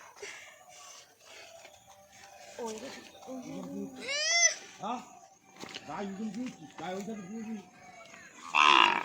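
A cow moos several times nearby on a farm where a calf is being fed, drawn-out lowing calls rising between stretches of people talking close by.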